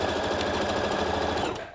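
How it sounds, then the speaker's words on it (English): A sewing machine runs steadily, stitching a trouser seam and back-stitching for strength, a dense rapid mechanical chatter that fills the clip before slowing and stopping near the end. "I'm sewing about halfway up and doing a nice little back stitch so it's really strong."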